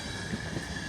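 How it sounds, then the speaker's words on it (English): A CrossCountry train rolls through Northallerton station, a steady close rumble of wheels on rails with a constant loud hum, heard alone without talk. "Oh, this is another train coming."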